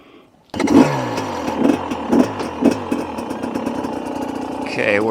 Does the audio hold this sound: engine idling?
yes